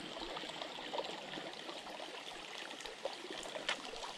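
A tiny trout creek flows and trickles steadily, a soft, continuous burble of water at close range with no talk.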